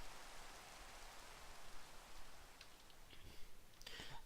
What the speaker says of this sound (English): it is now raining